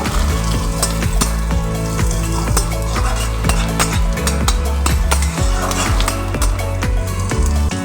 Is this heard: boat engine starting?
no